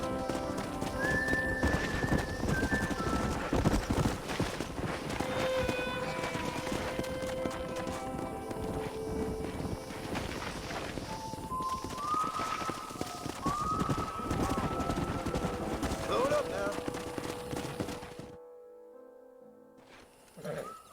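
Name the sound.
horses galloping, hooves clip-clopping, from the video game Red Dead Redemption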